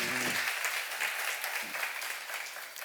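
A church congregation claps during a seminar sermon, a soft, even spread of applause continuing after the preacher's voice briefly cuts off at the start.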